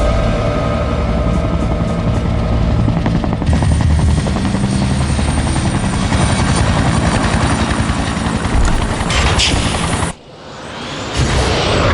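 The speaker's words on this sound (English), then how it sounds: "and then the helicopter crashes on top of him" A helicopter crashes in the video game Resident Evil 2: loud rotor thudding and engine roar mixed with rattling gunfire, then a sudden cutoff near the end followed by a low rumble and the noise resuming.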